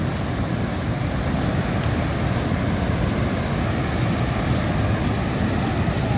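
Steady, roaring rush of the Kaveri River flowing from an opened dam, loud and unbroken throughout, heard up close.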